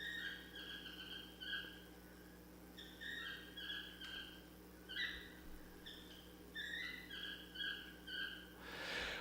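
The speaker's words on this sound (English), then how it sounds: "those birds are actually toucans" Toucans and smaller toucan-like birds call in repeated bursts of short, bright, squealing notes, several clusters spaced a second or two apart, fairly faint over a low steady hum.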